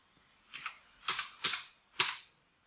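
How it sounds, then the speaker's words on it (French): Keys on a computer keyboard are typed in a short, irregular sequence, with about six close, crisp clicks grouped in pairs and singles and quiet gaps between them, and no voices. "je peux écrire directement au clavier le nouveau titre"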